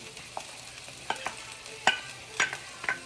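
Soft, irregular scrapes and clicks of a spoon stirring cooked basmati rice into a ground turkey meat mixture in a bowl, with quiet gaps between strokes.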